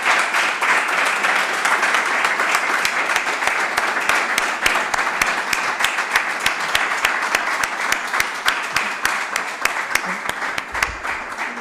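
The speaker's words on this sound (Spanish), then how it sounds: "Has oído los aplausos virtuales." Enthusiastic applause from an audience after a talk on the geology of the Serra de Tramuntana, many hands clapping rapidly and steadily for several seconds, loud and close, with a brief voice near the end.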